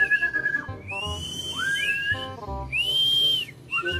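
Shrill whistle blasts with rising and falling pitch sound repeatedly, close and loud, with short gaps between them.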